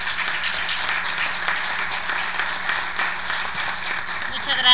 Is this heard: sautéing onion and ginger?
no